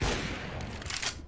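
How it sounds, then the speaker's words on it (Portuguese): Gunfire in a competitive Counter-Strike match on the Ancient map, heard as a quick burst of several sharp shots close together over a noisy background. "Deu um tiro."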